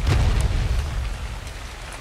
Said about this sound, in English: Oh, rain. Rain, thank you.